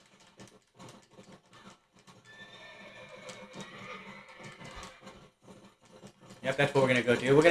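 A horse whinnies loudly near the end after a stretch of quieter clip-clop hoofbeats and faint ambient sounds, in the video game Red Dead Redemption.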